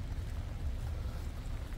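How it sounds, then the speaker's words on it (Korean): Steady rain falls over a greenhouse garden full of blooming flowers, a soft, continuous patter with a low rumble, constant and fairly close, with no voices. "완전히 비 오니까는 꽃들도 좋아하고 그러는 것 같아요."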